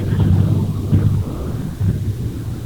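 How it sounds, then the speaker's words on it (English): Heavy rain and wind roaring around a vehicle driving through a severe thunderstorm in western Oklahoma, a loud, steady, dense rumble throughout with no voices. "I know there's a lot of noise there, a lot of precipitation you're driving through."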